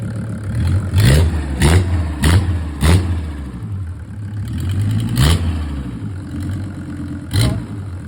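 Mercedes OM602 2.5-litre diesel engine revving with its glow plugs removed, giving a series of sharp throttle blips over a steady, clattering idle, close and loud with no talking.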